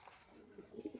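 Faint, soft cooing comes from racing pigeons in a loft, with low throaty coos building toward the end.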